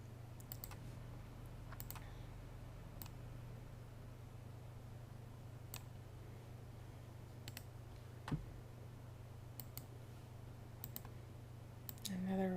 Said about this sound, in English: So that's a right click.